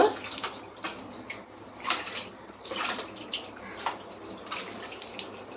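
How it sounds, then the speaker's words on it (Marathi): Soaped kitchen items are rinsed under running water, a soft, close splashing and trickling with irregular swells as pieces are moved and washed. "थोडस पाणी वापरून धुवून घेतो"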